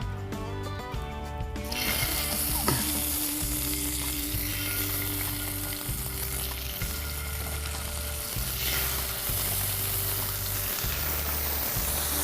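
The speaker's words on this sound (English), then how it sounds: "You want to hear that sizzle, it's going to be as hot as it can possibly go" Pigeon breasts sizzle steadily in very hot oil, a constant crackling hiss under a low rhythmic mechanical hum.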